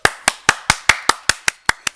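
A single person claps hands ten times in an even, quick rhythm, each clap a sharp close crack with a short decay, alone with no talking.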